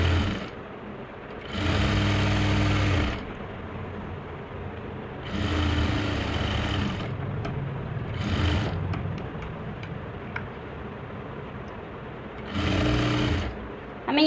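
A sewing machine stitches a double seam along a suit lining in four separate bursts of rapid whirring, each a second or two long, with quiet pauses between runs.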